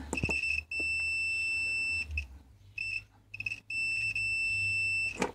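Steady high-pitched electronic beeping from an electrical tester checking an appliance outlet, in long sustained tones broken by brief gaps, with a low hum underneath and no talking.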